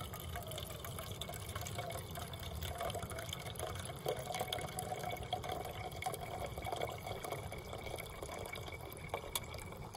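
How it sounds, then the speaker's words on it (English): Filtered water is poured into a mug at a trail shelter campsite on the Appalachian Trail, a soft continuous trickle heard quietly and evenly throughout. "I'm going to put a cup of filtered water into"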